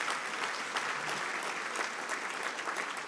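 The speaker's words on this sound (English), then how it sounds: "we should give him a round of applause." An audience at an annual dinner gives a sustained round of applause, a dense, even wash of many hands clapping at moderate distance throughout, with no clear voices over it.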